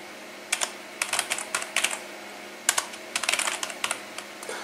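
Fingers type on a computer keyboard in quick bursts of crisp key clicks, close and clear, with short pauses between runs of keystrokes.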